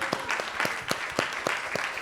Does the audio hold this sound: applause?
yes